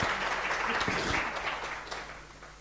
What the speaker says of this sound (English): You can clap for all of them.